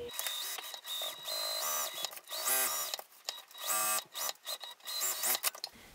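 A sewing machine top stitching a clutch wallet runs in short whirring bursts with brief pauses between them, close and fairly quiet.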